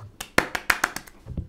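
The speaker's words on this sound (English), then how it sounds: "Mics don't really pick up clapping very well, but I'm clapping" A run of about eight sharp hand claps comes through a microphone in an irregular burst, crisp and fairly close, trailing off into a softer thump at the end.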